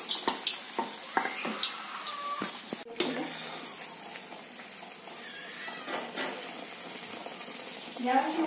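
Spinach paratha puri frying in hot oil, a continuous close sizzle with bubbling and the occasional scrape of stirring, fairly loud throughout, with no voice.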